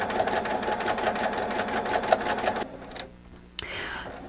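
A sewing machine stitches back and forth with a rapid, close mechanical whir and clatter for a few seconds, then stops abruptly, leaving faint handling sounds.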